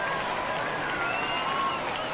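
A baseball video game crowd applauding a pitcher after a near-perfect game, a dense wash of clapping and cheering spread across the stands, steady throughout.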